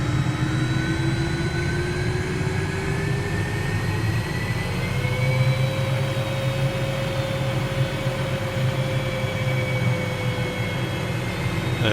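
The MD 500E helicopter engine spools up in Microsoft Flight Simulator, a steady loud turbine whine with rising tones over a deep rumble that stays constant throughout, with no talking.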